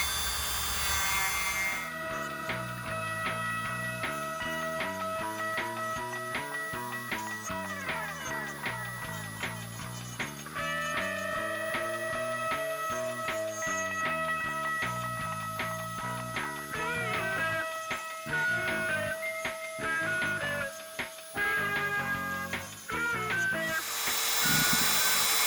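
A Dremel rotary tool grinds at the plastic joints of an action figure being prepared for paint, a close, continuous whine that rises and falls in pitch as the bit bites and eases off the part.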